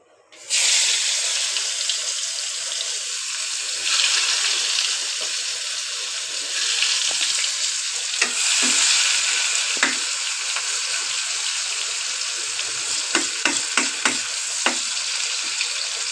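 Chopped onion hisses loudly in hot oil already used for frying eggplant and hilsa fish, a dense, steady close-up sizzle with a few small surges and sharp ticks and clinks of a utensil toward the end, and no talking.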